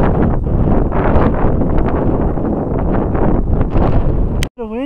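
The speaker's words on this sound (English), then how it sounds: "The wind, yes." Wind blowing in the mountains of Nepal roars steadily and loudly against the microphone, a continuous rumbling buffeting that cuts out abruptly near the end.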